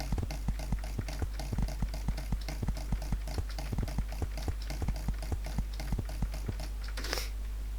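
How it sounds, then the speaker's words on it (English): Rapid, crisp computer mouse clicks during Minecraft moonwalk bridging, a steady quick rhythm of sharp taps recorded close and loud, with no talking over them. "I hope you can hear my mouse"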